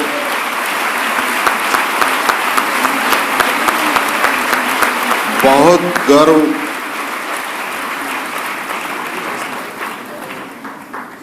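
Strong audience applause in a hall during a Jain Maha Shat-Avadhan gathering, loud continuous clapping that swells and then tapers off while a voice speaks over it.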